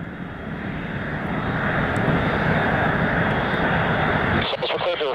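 A flight of six Blue Angels jets taking off from runway 26 at El Centro, a loud sustained broadband engine roar that builds steadily and holds, then breaks up into a rough pulsing texture near the end.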